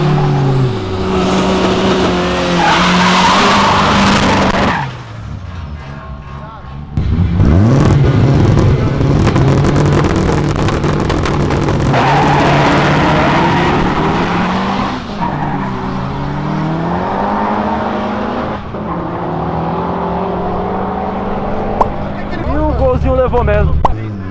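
A 300 hp Volkswagen Golf and a Chevrolet Opala in a drag race: loud revving engines, roaring acceleration and tire squeal, with gear changes and engine notes rising and falling, alongside voices.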